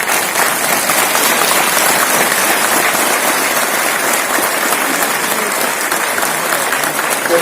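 An audience at a centenary ceremony breaks into sustained, dense applause, loud and even throughout with no pauses.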